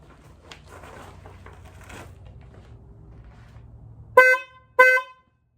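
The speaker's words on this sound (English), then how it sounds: "Switched out factory horn with this PIAA." Two loud, sharp blasts from an aftermarket PIAA horn on a Subaru Sambar, close by, follow a few seconds of quiet mechanical shuffling and low rumble.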